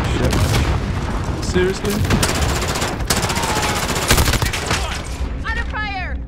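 Rapid gunfire in the video game Call of Duty Modern Warfare, multiplayer map Vacant, with close automatic bursts and sharp single shots throughout, a voice briefly speaking near the end.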